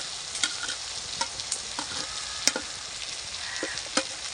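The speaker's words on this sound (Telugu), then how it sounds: "మళ్ళీ అంతా ఇట్లా అంతా కలపాలి మసాలా" A spoon scrapes and stirs masala with coriander and ginger paste in a sizzling pan, giving soft frying hiss with irregular clinks and scrapes, close and alone.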